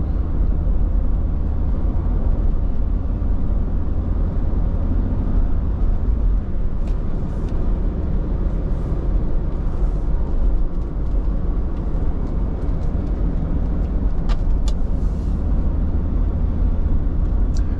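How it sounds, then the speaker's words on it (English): A 1993 Toyota Land Cruiser 80 series VX-Limited drives uneven back roads, giving a steady, loud drone of engine and road noise from inside the cabin that holds constant throughout, with faint rattles now and then. "It's especially fun driving this 80 series on the back roads"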